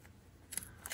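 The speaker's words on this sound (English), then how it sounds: "So you're gonna just snip" Scissors snip through crochet yarn in two quick, close cuts toward the end, after a quiet start.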